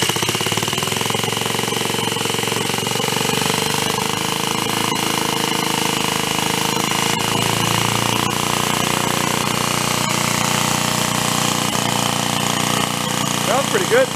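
Small engine of a donated, formerly broken reel mower running steadily at a fast idle, a loud continuous buzzing drone that holds unchanged throughout with no talking over it.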